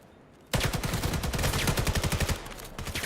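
Gunfire in the VR shooter VAIL: after a short quiet start, a loud, rapid automatic burst hammers on for about two seconds, then gives way to a few trailing shots.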